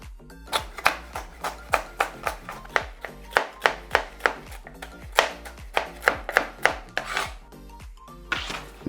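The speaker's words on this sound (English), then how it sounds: "I'm going to cut it into small sheets" A knife chops repeatedly on a cutting board as an artichoke is cut into small pieces for lasagna, giving a steady run of sharp, close knocks at a brisk, even rhythm with no talking.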